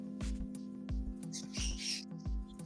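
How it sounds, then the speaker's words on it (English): Pet birds call in the background of a live aquarium-hobby chat, a few short chirps and squawky whistles scattered over a steady low hum, fairly close but modest in level, with no speech. "I can hear your birds"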